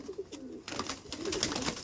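Pigeons cooing inside a loft, a soft low murmur of several birds that continues steadily throughout, fairly quiet, with a brief lull before the cooing picks up again.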